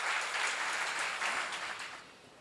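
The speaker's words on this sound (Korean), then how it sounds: "그렇게 생각하는 사람만 박수 한번 쳐봐요." Congregation at a church seminar clapping together, a steady dense wash of applause that fades slightly toward the end, with no talk over it.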